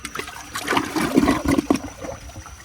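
A 1978 American Standard Cadet toilet flushes with a short, close gush and gurgle of rushing water, turbulent for a couple of seconds before trailing off.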